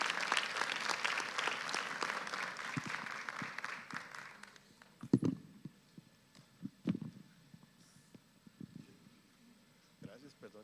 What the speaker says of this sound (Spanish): Démosle un mejor aplauso al doctor David, por favor.